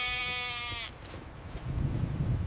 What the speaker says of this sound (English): The sheep seem cold.